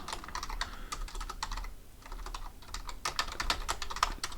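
Typing on a computer keyboard while writing Java code, a close, quiet run of rapid key clicks with a brief pause midway, then another burst of keystrokes.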